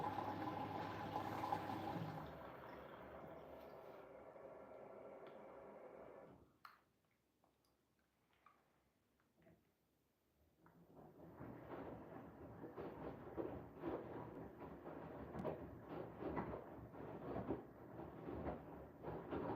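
Siemens iQ700 4D washing machine on a cotton 60 cycle with extra water and intensive rinse, washing huge absorbent blankets: steady loud churning and water sloshing, a quiet pause midway, then the tumbling and splashing resumes.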